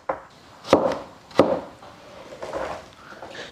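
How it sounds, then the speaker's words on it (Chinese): A knife chops through the stems of red oil vegetable, cutting them into strips on a board: two sharp, close chops about a second apart, then softer tapping and rustling. "切成小条"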